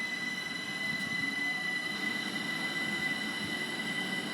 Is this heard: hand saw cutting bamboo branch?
no